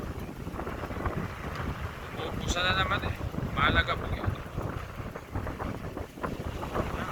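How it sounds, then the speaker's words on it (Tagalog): Strong wind roars over rough sea waves near fishing boats, a loud steady buffeting rush with surf underneath while someone talks over it and a brief tonal squeal cuts through. "Lakas po ng hangin."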